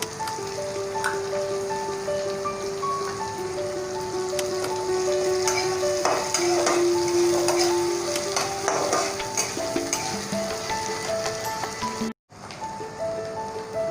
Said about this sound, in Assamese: তেলখিনি গৰম হৈ উঠিছে ইয়াত মই দিছোঁ পিঁয়াজ আৰু জলকীয়া এইবাৰ মই দি দিছোঁ আদা নহৰুখিনি।